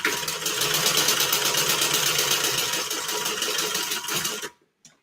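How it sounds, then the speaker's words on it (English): A sewing machine top-stitches down each end of the connectors on a bag, running in a fast, steady, even stitching rhythm for about four and a half seconds before it stops abruptly into near silence. "all I'm doing is top stitching down each end of these connectors"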